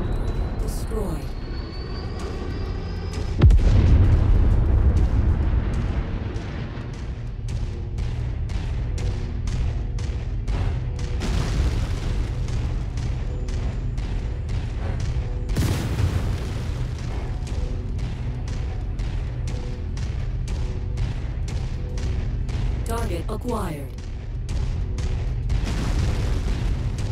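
Enemy vehicles blowing up in the mech combat game MechWarrior 5: a loud booming explosion early, then sustained rumbling combat with scattered sharp bangs and crackles, with speech over it.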